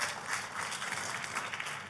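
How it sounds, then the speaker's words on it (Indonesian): A church audience applauds for Jesus, a soft, fairly distant patter of many hands clapping steadily throughout. "Sekali lagi tepuk tangannya meriah buat Yesus Tuhan kita."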